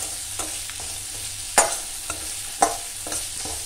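Cooked rice being stirred with lemon juice in a pan for lemon rice, giving a steady soft sizzle broken by a few sharp scrapes and stirring knocks, close and alone.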